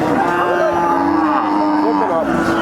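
A young Sindhi breed bull calf gives a loud, close moo with a wavering tone, sustained for about two seconds.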